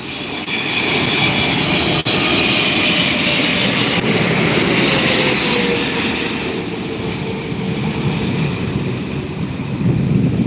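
British Airways airliner at LAX airport, its loud jet engine roar steady and close throughout, rising slightly toward the end with no speech.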